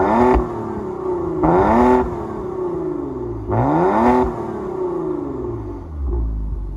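A 2024 Maserati Quattroporte Ultima engine revs three times in quick bursts, each a loud rising then falling howl, settling to a low idle rumble between and after.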